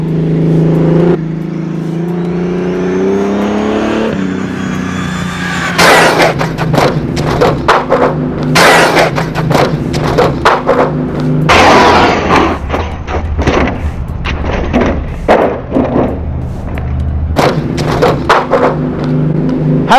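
A Losi 1/8 LST 3XL-E electric RC truck makes a speed run in a parking lot, its motor whining up loudly and staying close and strong, with sharp rattling thumps and bursts along the way and no talk.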